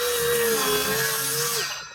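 A power tool cuts into deck wood at an old cottage, a loud whining, grinding buzz held close for about two seconds before it winds down.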